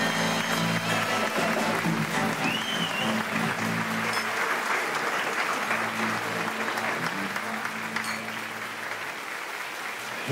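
Crowd applause welcoming someone to the stage at a performance, a dense, loud wash of clapping sustained for about ten seconds and fading slightly toward the end.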